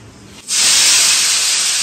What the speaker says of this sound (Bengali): আজকেও ঢেঁড়স ভাজা হচ্ছে